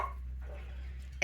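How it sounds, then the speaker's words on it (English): A dog in a home kitchen gives a soft whimpering sound, then a single sharp, close bark at the very end. "You don't need to bark."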